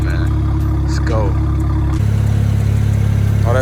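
A BMW 335i engine, just brought back to running condition with leftover oil smoking from the exhaust, idles steadily and loudly up close, with a brief shift in pitch partway through.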